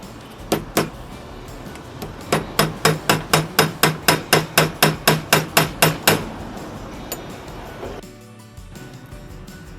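Repeated metallic hammer blows ring out in a steady rhythm as a part is driven into a wall fan, about twenty sharp strikes close by, then stop, leaving a quiet room.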